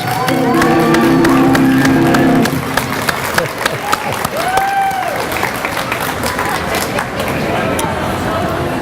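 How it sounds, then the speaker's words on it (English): A crowd at an outdoor Earth Day gathering in Bellevue bursts into sustained applause with scattered cheers and whoops. Steady dense clapping runs throughout, with a voice speaking briefly over the opening seconds. "If you would join me in thanking them, please, with a round of applause."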